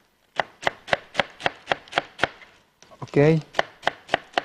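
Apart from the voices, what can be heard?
chopping cabbage with a knife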